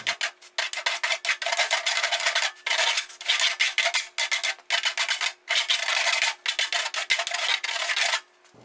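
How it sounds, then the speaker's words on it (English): A round metal file deburrs the edges of a hole freshly cut in a computer case, giving repeated close, bright rasping strokes in a steady rhythm with short gaps between them. "use a round metal file so you can deburr the edges of the hole we just cut"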